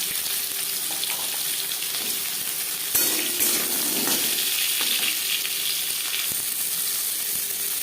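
Hog plums dropped into spluttering black mustard seeds in hot oil for masoor dal, a steady close sizzle with a sharper burst of crackling partway through as they land.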